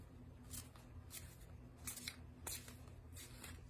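Tarot cards being shuffled, a series of soft, quick riffling bursts repeating in short clusters, close and quiet with no talking.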